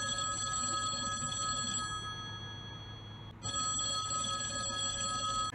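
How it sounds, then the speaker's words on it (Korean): Telephone ringing while calling a government welfare hotline, a steady electronic ring tone that pauses briefly and then resumes, heard alone and fairly faint. "제가 직접 129번 복지로에 전화를 했습니다."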